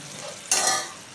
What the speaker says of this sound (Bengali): মাংসটা একটু জল দিয়ে মাংসটাকে সেদ্ধ করতে দেবো।